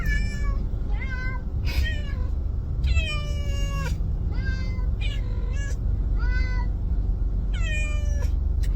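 Two cats in carriers meow and yowl repeatedly, long drawn-out cries overlapping one another, loud and close over a constant low car engine rumble on a ride to the vet.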